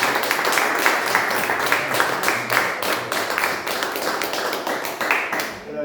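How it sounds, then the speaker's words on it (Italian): Audience clapping at an Italian book presentation, a dense patter of hands sustained throughout at moderate loudness, tapering off near the end. "direi un applauso veramente"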